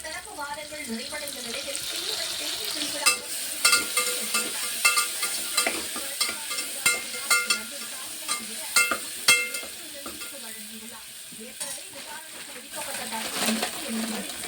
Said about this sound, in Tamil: இஞ்சி பூண்டு பேஸ்ட் போட்டுக்கலாம்.